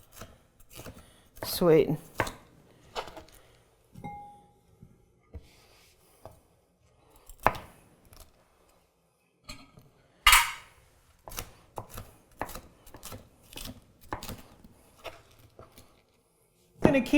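A Damascus steel chef's knife chops on a cutting board in a home kitchen, sharp irregular knocks and slices separated by pauses, with a brief spoken word and some quiet talk between the cuts.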